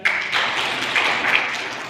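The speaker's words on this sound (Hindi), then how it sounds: "लगाइए ताली।" Audience applause in a lecture hall after a health talk, dense steady clapping from many hands lasting the full couple of seconds, fairly loud and close, with no voices over it.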